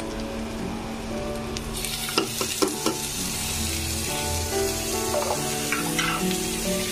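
Onions fry in hot oil in a pan, a steady close sizzle broken by several scraping stirs of a spoon against the metal, with no voices over it.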